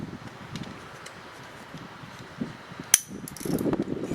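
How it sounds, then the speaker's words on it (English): A ratchet turning on a spark plug of a 1976 Honda CB750A Hondamatic motorcycle: faint mechanical clicks and rustling that end in a sharper click and a low scraping turn, heard close with no talk. "Get that ratchet thing on there."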